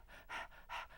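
A person imitates a dog panting with two quick, breathy huffs, close and fairly quiet.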